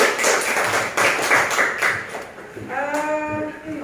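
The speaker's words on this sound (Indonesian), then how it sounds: "tepuk tangan untuk kalian semua" Students clapping in a classroom, a burst of quick hand claps in the first seconds, then a voice-like tonal sound near the end.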